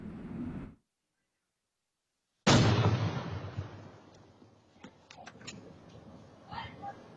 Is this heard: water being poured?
no